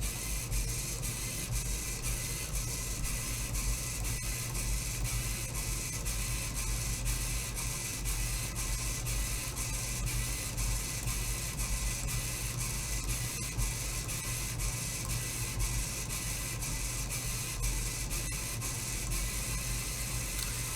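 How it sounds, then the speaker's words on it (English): A VEX V5 robot motor runs continuously in a loop, giving a steady, even mechanical whir with faint ticking that holds at a constant level throughout, with no voices. "our motor gets caught in a continuous loop, so we don't necessarily, it just continues to run"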